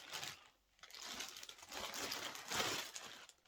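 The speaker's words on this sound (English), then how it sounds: "sorry about the rustling" Soft, close rustling and crinkling, like plastic or paper being handled, comes in uneven bursts with brief pauses.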